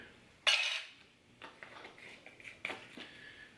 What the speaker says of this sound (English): we're going to need to reuse that spoon that we just threw off to the side